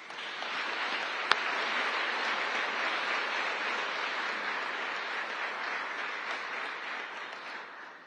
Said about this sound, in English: Please give a final round of applause for their dedication and tireless efforts.